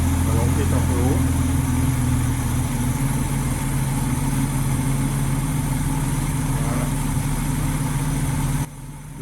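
A Citroën Traction 15 Six engine fitted with three carburettors idles steadily nearby, a constant low rumble throughout that stops abruptly just before the end.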